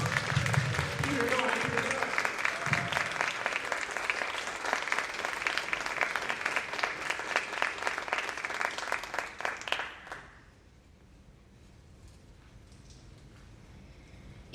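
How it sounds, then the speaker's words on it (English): An audience applauds steadily as a performer walks to the stage at a cultural arts event, with voices mixed into the clapping. After about ten seconds the applause stops abruptly and leaves a quiet room. "We don't want you to stop clapping until she gets to the stage"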